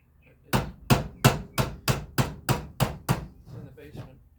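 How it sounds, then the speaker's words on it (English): Nine sharp, evenly spaced hammer blows on tin with a pin hammer, flattening the metal in a basement workshop, loud and close with a brief quiet tail after the last strike. "pin hammer is normally what you use to hammer tin."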